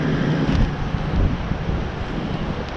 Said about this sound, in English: A little bit windy today.